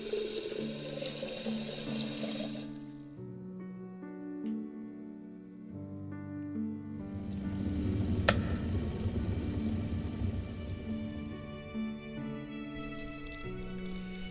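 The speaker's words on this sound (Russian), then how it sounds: "Набрать воды." Water being drawn for tea in the video game Lost Words: Beyond the Page, a soft running and pouring stream that builds midway over gentle background music, faint and steady, with no talking.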